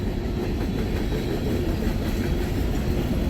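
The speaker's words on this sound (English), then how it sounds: "It can't be just one locomotive pulling all this." Norfolk Southern freight train hauling tank cars past at close range, a dense continuous rumble and rolling clatter of wheels on rail with no break, loud and steady.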